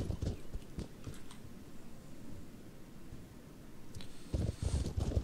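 Donkey hooves clip-clopping in the video game Mortal Online, quick soft hoof knocks at the start and again near the end over a steady hiss, close and alone.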